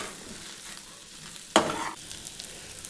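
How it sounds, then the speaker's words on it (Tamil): Okra masala stir-fry is stirred in a pan, with a low background sizzle broken by a single sharp scrape and spatter near the middle that fades within half a second. "இந்த மசாலா நல்லா கிளறி விட்டு மேலே மல்லித்தழையை சேர்த்துட்டு இறக்கிடலாங்க"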